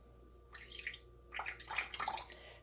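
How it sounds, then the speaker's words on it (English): Rose water pours in short trickling splashes into an empty spray bottle, two brief bursts of liquid close by and faint, with a steady low hum beneath. "So first I will add my rose water to 1 ounce."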